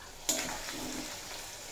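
Vegetables frying in a pan with ginger paste for a Bengali sukto, a steady close sizzle that jumps up sharply at the start and then settles into an even hiss.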